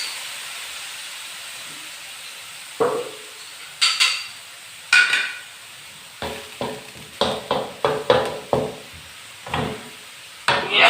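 Pork stir-fried in a hot pan for Thai basil pork (phat kaphrao): a steady background sizzle broken by a dozen or so sharp, close scraping stir strokes, speeding into a quick irregular rhythm toward the end, with no talking.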